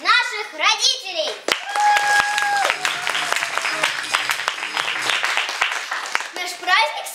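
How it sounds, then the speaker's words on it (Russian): Audience of families and parents clapping at a primary school fathers' celebration, loud sustained applause with children's voices and an adult speaking over the start. "Так поприветствуем аплодисментами, дорогие друзья, наши семьи, наших родителей."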